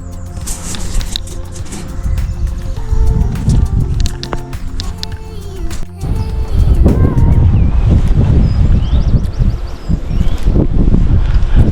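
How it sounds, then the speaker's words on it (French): Wind blows outdoors beside a river, buffeting the microphone with a rough, loud roar and leaf rustle that grows heavier and gustier partway through, with faint bird calls in the background. "T'entends le vent qu'il y a."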